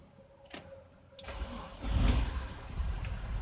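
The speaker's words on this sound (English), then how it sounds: "Let's run the engine again." A BMW X3 with a faulty lamp-control resistor cranks and starts, a quiet click and whir giving way to a rising engine roar that settles into a steady nearby idle.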